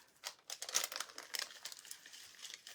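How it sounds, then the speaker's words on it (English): Aluminium hair foil crinkles and folds in quick, close bursts of papery crackling during a hair colouring session, a brunette being lightened to bronde, with no talking. "fold that first foil"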